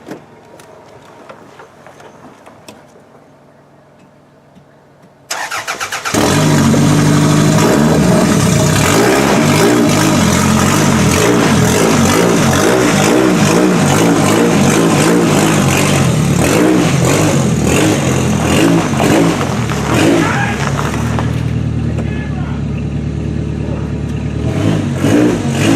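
A 1993 Toyota Camry engine catches after a quiet stretch and revs loudly and continuously, a steady dense roar that holds high before easing slightly near the end.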